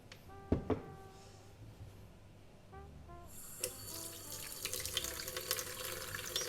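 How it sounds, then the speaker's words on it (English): Fish being rinsed with lime juice at a kitchen sink: a few soft knocks, then a tap opens and water runs steadily, splashing close and fairly loud for several seconds, with no speech. "So I'm just washing it here a little bit in the lime juice."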